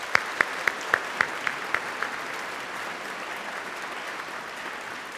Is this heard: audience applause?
yes